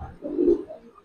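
Single low cooing call from a giribaz pigeon, a short soft rounded coo lasting about a second, close and alone.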